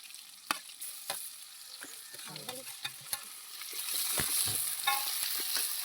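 Tomatoes and green chillies fry and get stirred in a pan over a wood-fired stove in a village kitchen, with a steady sizzle that swells near the end, punctuated by scraping stirs and spoon clacks.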